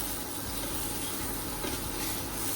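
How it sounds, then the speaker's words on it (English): Marinated chicken sears in a hot pan, giving a steady, close sizzle that stays even and unbroken for the few seconds, with no talking. "I'm gonna get a good sear like this."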